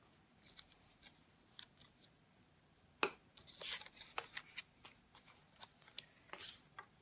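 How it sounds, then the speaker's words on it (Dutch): Paper edges being scored for a handmade paper box, heard as soft, close scraping strokes and light taps in an irregular series, one sharper snap standing out, all quiet with no voices. "ga ik alle randjes even rillen"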